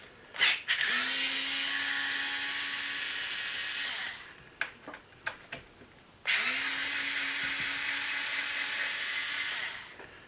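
Two bursts of a power drill driving screws out of a Senton 3S RC car chassis, each a steady high whine with a brief spin-up, separated by clicks and small handling taps, close and loud with no talk.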